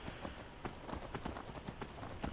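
Horse hooves clop in a steady galloping rhythm in the Skyrim video game, faint and distant-sounding, with repeated even beats and no talk.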